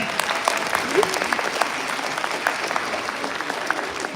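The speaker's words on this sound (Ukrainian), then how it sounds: "Просто аплодуйте, ви вже вижили. Оплески!" Students and faculty at a medical school celebration in Uzhhorod clap steadily in a hall, a continuous crackle of applause with scattered louder claps and voices mixed in underneath.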